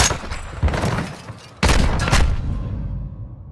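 Loud bursts of rapid gunfire in a tactical shooter video game, a sustained volley, a short gap, then a second heavier barrage that tails off into echoing reverb.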